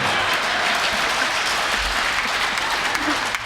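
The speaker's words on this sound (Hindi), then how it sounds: "आगे वाले भी ताली बजा रहे सारे लोग" Dense audience applause at a Hindi comedy poetry recital, a loud continuous roar of many hands clapping together, sustained and even throughout, with voices faintly mixed in.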